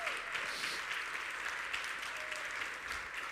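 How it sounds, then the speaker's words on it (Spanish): Church congregation at a Sunday communion service applauding in praise, steady clapping from many people sustained evenly throughout. "Denle un aplauso más lindo al Señor"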